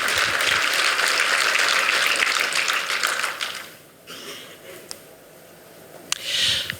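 Audience at a New Year's greetings ceremony in Montignac applauding, dense close clapping that fades after about four seconds, followed by scattered claps and faint voices.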